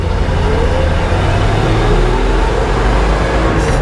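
A 1967 Ford F100 pickup truck gives a loud, steady engine roar from close by, its low rumble holding continuously as it pulls through a gear, with faint talk in the background.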